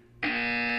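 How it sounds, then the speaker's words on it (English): A loud, steady electronic buzzer tone in the video game Portal 2 switches on abruptly after a brief quiet moment and holds unbroken to the end. "You will hear a buzzer."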